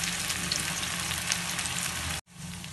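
Breaded potato lollipops fry in oil over a medium flame, making a steady close sizzle that cuts off briefly near the end and then resumes more quietly.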